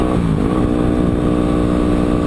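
Yamaha WR250R motorcycle riding along a highway in a 90 zone: a loud, steady engine drone with strong wind rush, the pitch sliding briefly early on before holding even.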